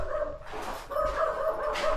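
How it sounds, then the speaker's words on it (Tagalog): An angry dog barks and yips near an abandoned house in Marilao, Bulacan, that has been submerged in floodwater since Typhoon Ondoy, giving a few sharp close barks with whimpering tones in between. "Galit na yung aso."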